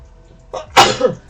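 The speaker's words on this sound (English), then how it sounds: "I have to sneeze." A single close, loud sneeze with a short sharp intake of breath before it, then a brief trailing exhale.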